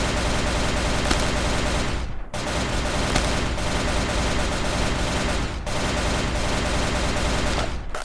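Continuous rapid fire from the Furnace rifle in the game Cops N Robbers, a dense, loud, unbroken stream of shots in two short bursts separated by brief gaps near two and five and a half seconds.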